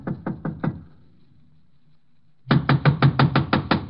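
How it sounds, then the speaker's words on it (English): Knuckles rap on a door in two bursts, four sharp knocks, a pause, then eight firm, evenly spaced knocks, close and clear with no talk. "I'll give it a knock."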